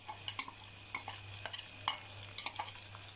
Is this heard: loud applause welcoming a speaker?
no